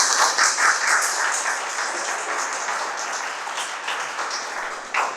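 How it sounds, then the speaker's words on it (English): Steady applause from an audience fills the whole stretch, dense and sustained, with no voices over it. "So please give them a round of applause."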